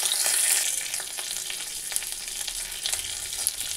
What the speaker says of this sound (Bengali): এখানে একটা কড়াই বসিয়ে দিয়েছি আর কড়াইতে দিয়ে দিয়েছি ঘি। এবার এর মধ্যে আমি কাজু,